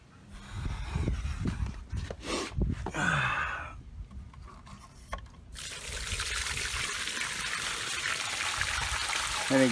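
Fresh water drains out of RV trailer tanks: a few gurgling splashes and trickles at first, then a steady, continuous rush of running water that keeps flowing to the end.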